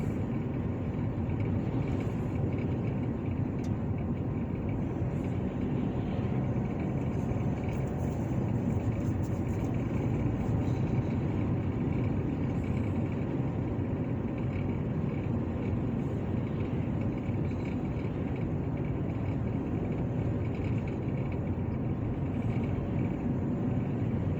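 A car driving along a road through small-town Scottsburg, Indiana, heard from inside as a steady, continuous low engine and road rumble with no breaks, level throughout.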